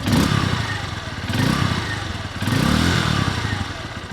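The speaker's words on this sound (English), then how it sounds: "taking a quick sound check of the exhaust" A 2025 Honda XR150L motorcycle idles with a loud, throaty exhaust burble, rising and falling in a few short revs.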